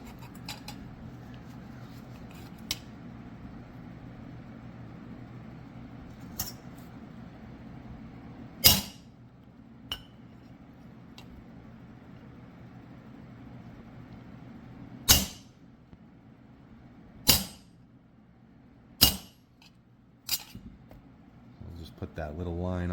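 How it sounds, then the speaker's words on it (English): Chiseling along the rolled edge of a metal armor pauldron gives a handful of sharp, isolated strikes spaced several seconds apart, ringing out over a quiet room hum. "now I'm going to go back and just chisel right along the inside of where that fold is"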